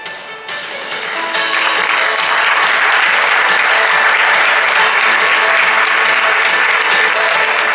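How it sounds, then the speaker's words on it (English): A large conference audience at the 2015 Samsung SSD Global Summit in Seoul breaks into applause, building quickly within the first second or two and holding as a dense, sustained wash of clapping. "with a big round of applause."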